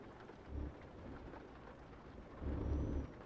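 Rain and thunder in the trucking game Euro Truck Simulator 2: a steady patter of rain on surfaces with two deep, low thunder rumbles, one brief and one longer, and no speech.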